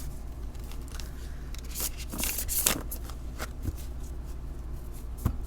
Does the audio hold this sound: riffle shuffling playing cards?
yes